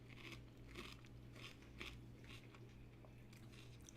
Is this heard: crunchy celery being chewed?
yes